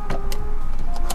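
A car's starter cranks steadily with a continuous whirring motor and faint rhythmic pulses, close and fairly loud, while the engine never catches and runs on its own.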